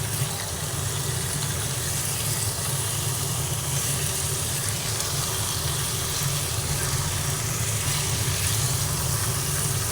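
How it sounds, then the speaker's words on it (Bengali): Marinated chicken fries over a high gas flame as it is cooked down for a kala bhuna curry, giving a constant, even sizzling hiss that holds steady without a break. "দেখুন কী সুন্দর করে এটা কষিয়ে নিচ্ছি"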